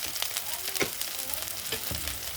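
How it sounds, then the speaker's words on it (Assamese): Katla fish posto masala with cashew, salt and turmeric fries in a pan, a low steady sizzle broken by repeated scraping and stirring strokes of a spoon. "আৰু এতিয়া অলপ মই লাৰি দিছোঁ।"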